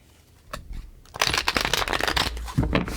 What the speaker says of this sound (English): So I'm gonna do a quick little shuffle here.